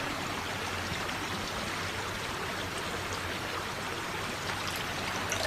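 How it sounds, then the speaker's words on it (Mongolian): Water pouring steadily into a container during a kindergarten lesson on the properties of water, a continuous splashing, trickling wash that runs unbroken and fairly close for several seconds with no talking over it. "багш нь дахиад нөгөө усаа савндаа юулж хийх нь"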